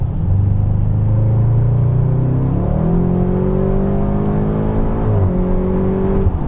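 An Audi RS6 Avant accelerates at full throttle from inside the cabin, a loud continuous engine drone rising in pitch, dropping briefly at gear changes, then climbing again.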